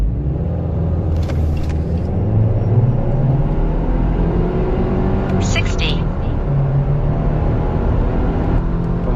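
A 1.8 turbo Subaru Forester SK5 with a manual gearbox accelerates hard from 0 to 100, its engine droning in a loud, steady, close rumble that builds through the run, with someone talking over it.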